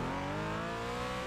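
A Porsche 718 Cayman engine in the iRacing sim drones at a steady, held pitch, loud and continuous throughout the brief moment, with no talking over it.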